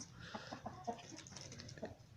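Backyard hens and a rooster cluck in short, scattered bursts at close range, with the birds fed on vegetables, and soft rustling fills the background between calls.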